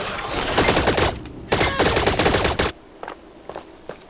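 Rapid automatic gunfire from the T3 Arena video game, loud and close, in two dense bursts followed by a few sparse single shots trailing off.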